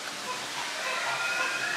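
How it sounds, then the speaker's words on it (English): A flock of birds perched overhead at Busch Gardens Tampa fills the air with a dense, continuous chatter of calls, steady and moderately loud. "Ooh, these birds up there all hanging out."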